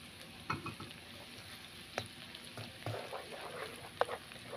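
Garlic frying in a pan for mojarras al mojo de ajo gives a quiet, steady sizzle, punctuated by a few sharp utensil clicks.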